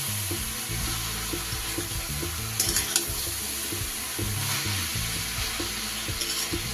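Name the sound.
stirring cabbage cooking in a pan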